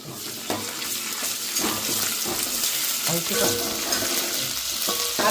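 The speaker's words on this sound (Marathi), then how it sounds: "लसूण पेस्ट टाकली मस्तपैकी फोडणी ताप गरम झाली आपण कांदो घातला आलंची पेस्ट घातला" Garlic paste and onion sizzling in a hot pan as the tempering for a Malvani-style crab curry, a steady close frying hiss with occasional stirring scrapes and no talk.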